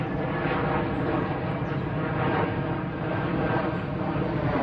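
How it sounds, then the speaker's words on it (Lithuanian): A helicopter flies overhead, a steady, loud, close rotor and engine roar that holds throughout without any talk. "Sraigtasparnis šitą triukšmauja."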